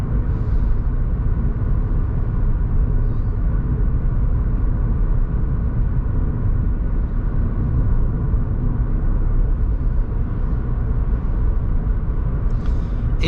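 A car on a driving-test route near Billom accelerates and cruises at 80 km/h, with a steady, loud cabin rumble of engine and road noise throughout.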